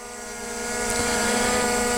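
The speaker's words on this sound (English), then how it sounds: "once the drone finishes its routine, it comes right back to where it was in the first place" A Skydio 2 Plus drone flies back toward its starting point, its propellers giving a steady high whine that grows louder as it nears and then holds at close range.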